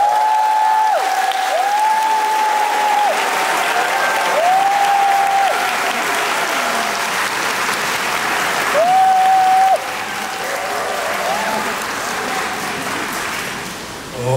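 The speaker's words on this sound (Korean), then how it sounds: "박수로 모시겠습니다" Outdoor picnic concert crowd applauding at Bansoksan, steady dense clapping lasting throughout, with a few whistles or cheers rising above the clapping.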